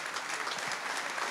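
Applause from an audience at a French event thanking its organizers, a steady dense clapping throughout, fairly distant.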